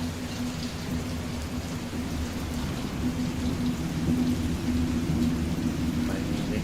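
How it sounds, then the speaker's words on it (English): Steady, loud storm rain pours continuously in the video game Layers of Fear, a dense hiss of falling water with low rumbling thunder underneath, no voices. "Will this storm ever run out of rain?"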